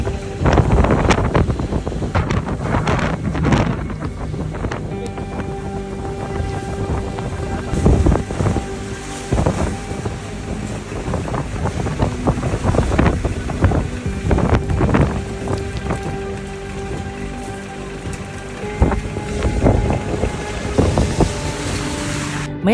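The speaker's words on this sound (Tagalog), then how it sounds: "mamaya mapapansin nyo kung gaano kalakas yung hangin" Strong typhoon wind roars past a roadside in Sagada, buffeting the microphone in loud, uneven gusts that rumble and whoosh continuously with no voices.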